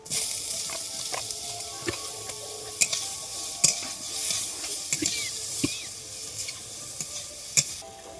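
Mango pieces dropped into hot oil in a pan, sizzling steadily while a spoon stirs them, giving repeated scrapes and clicks against the metal, close and fairly loud, with no talking.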